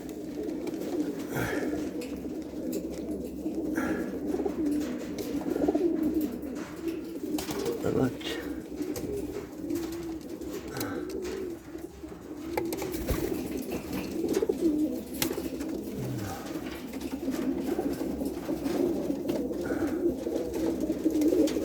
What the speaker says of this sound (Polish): Są naprawdę piękne gołębie.